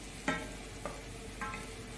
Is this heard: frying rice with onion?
yes